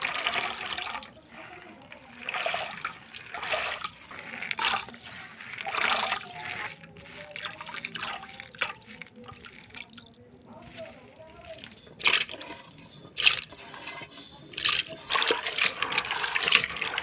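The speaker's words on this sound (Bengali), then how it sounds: "এগুলো হচ্ছে একটু ধুয়ে নিচ্ছে," Water splashes and trickles irregularly as things, likely potatoes, are washed and mixed by hand, with intermittent sloshes and drips while people talk.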